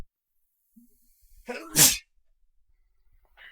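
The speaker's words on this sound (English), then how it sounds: "Sorry, sneezed." A single sharp sneeze bursts out close by, preceded by a brief intake of breath, then near silence with a faint rustle afterward.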